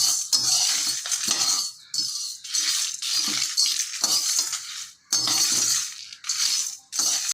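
Whole spices, including coriander seeds, are dry roasted on low flame for tamarind rice. They rattle and clink loudly against the metal pan in long stirring sweeps, with a few brief pauses.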